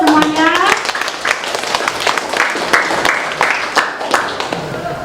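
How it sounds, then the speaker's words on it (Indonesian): A classroom of students applauding, a burst of many hands clapping in fast, uneven rhythm for several seconds, nearby and fairly loud, with a voice speaking briefly at the start. "Ya, kasih aplaus semuanya."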